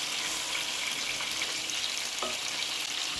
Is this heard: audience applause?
no